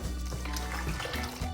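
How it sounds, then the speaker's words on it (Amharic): Water pours steadily into gluten-free injera batter, a close, continuous splashing and gurgling fill that runs the whole time without pauses. "በደንብ አድርገን በዚህ ካብላላ ነው በኋላ ውሃ ሞላበታለሁ።"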